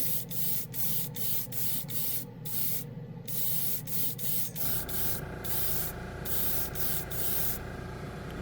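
An airbrush sprays Gaia Premium Red paint in a continuous close hiss, pulsing in short regular bursts, with the pitch and tone shifting partway through as the airflow changes.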